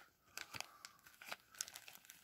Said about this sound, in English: I will separate these two flaps of plastic with the scissors